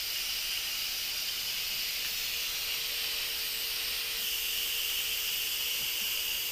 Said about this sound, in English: I'm going to release the pressure.